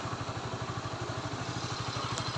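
A motorcycle idles close by, its engine putting out a steady, rapid low thumping pulse with a faint mechanical rattle, alone and without talk.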